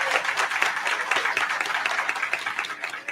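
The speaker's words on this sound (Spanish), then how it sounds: "Un aplauso" Audience applause at an awards ceremony for a communication association, steady dense clapping from a crowd filling the whole moment without pause.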